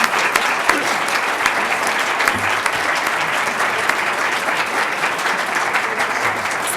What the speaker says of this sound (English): if we can have a round of applause for our wonderful school board